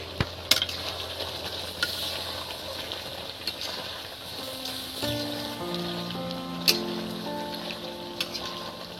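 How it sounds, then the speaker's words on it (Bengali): White chicken curry bubbles in a lightly covered pot, giving a quiet, continuous simmer with a few soft clinks and taps scattered through it. "দেখুন কিরম ফুটছে শুধু"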